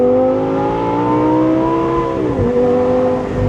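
V10 engine with an aftermarket exhaust and an 8,700 RPM redline, revving hard and loud in a sustained high-pitched howl that dips briefly as it shifts or lifts, heard up close with no talk.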